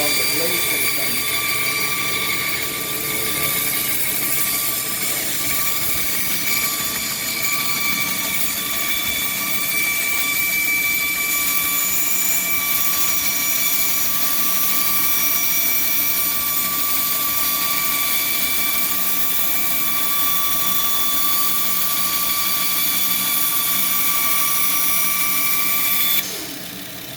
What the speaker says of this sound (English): this is the general idea of what a band saw does.